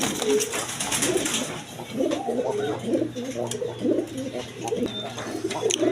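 A pair of quality Rajgolla pigeons coo steadily nearby, overlapping throaty rolling calls repeating without pause against a constant low hum, with faint chirps mixed in.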